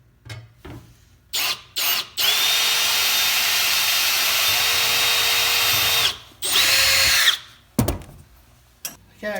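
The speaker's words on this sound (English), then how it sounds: "I got all my holes drilled into the bottom" Power drill boring holes into the bottom of a custom box trailer built for a Tamiya Grand Hauler model truck, in several bursts: short starts, then one long steady whine of about four seconds and another shorter run, close and loud.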